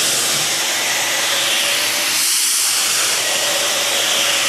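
A vacuum cleaner roars loudly and steadily up close, a broad rushing hiss with a brief muffled dip partway through.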